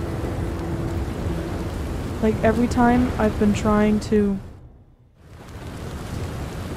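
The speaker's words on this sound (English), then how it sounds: "It's always raining in this game." Steady rain hisses in Red Dead Redemption 2, a broad wash of noise that dips and then returns, while someone talks over it.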